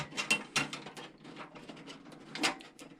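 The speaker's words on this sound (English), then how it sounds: "we have to take these two thumb screws out" Two thumb screws are being unscrewed from a PC case, giving close, small metallic clicks and scraping handling noises in quick irregular bursts, with no voices.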